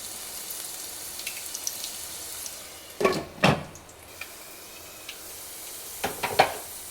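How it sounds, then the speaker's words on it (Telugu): Dry red chillies and garlic cloves sizzling in hot tempering oil, a steady low crackle with a few sharper bursts of spitting, close and fairly quiet, with no voices. "రెండు ఎండుమిర్చి వేసుకుందాం పోపులో"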